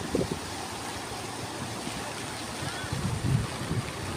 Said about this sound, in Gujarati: અતિ ભારે વરસાદ હોવાથી આ પાણીની અંદર આટલું નદીમાં પૂર આવ્યું છે